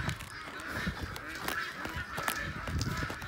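Geese honk repeatedly at frozen pools, a flock of harsh calls overlapping at moderate distance, with scuffing of ice being stomped and broken underneath.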